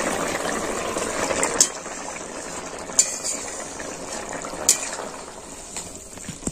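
A cauliflower and mackerel curry simmering in an uncovered pot, with a steady close bubbling hiss and a few sharper pops and clinks rising above it.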